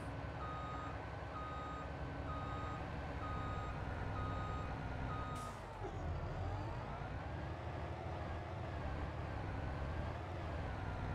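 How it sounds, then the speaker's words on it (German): Trucks idle and rumble with a steady, evenly spaced reversing beep in the Farming Simulator video game, the beeping cutting off partway as the engine drone continues alone at a constant level. "LKW laufen."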